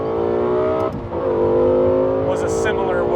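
Lexus LFA V10 engine revving hard, dipping briefly during a downshift then surging back in pitch, loud and close inside the car, with people talking over it.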